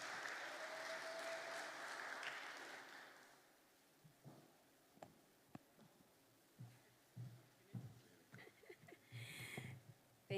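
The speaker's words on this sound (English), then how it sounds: "Please give her a warm round of applause." Applause at a conference in Namibia fills the opening few seconds, then fades, leaving scattered quiet knocks and shuffles in a hushed room.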